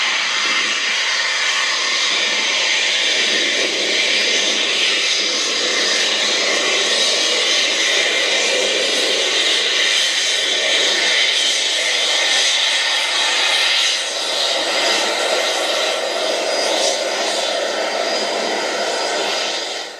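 Eurofighter Typhoon fighter jets taking off at RAF Coningsby produce a steady, loud, broad jet-engine roar that holds for the whole stretch with no talk over it.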